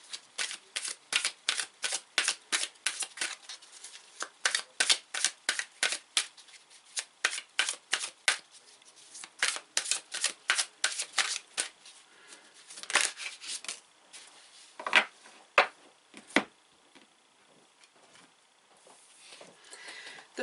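Tarot cards being shuffled up close: a fast run of crisp, rhythmic riffling bursts that later turn softer and more scattered, with no talking.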